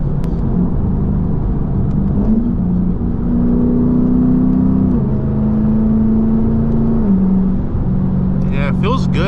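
A Lexus IS F V8 running on E30 fuel pulls hard from inside the cabin, its engine tone climbing steadily through the revs before easing near the end.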